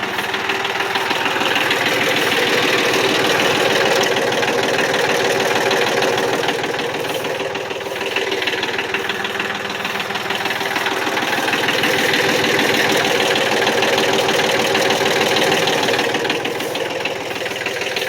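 A tractor engine idles steadily with the PTO engaged, giving a constant close mechanical chug and knock that runs unbroken for the whole stretch, with no talk.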